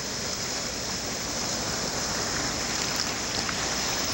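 A waterfall pours into a deep valley stream, a dense, steady roar of rushing water that stays loud and unbroken throughout.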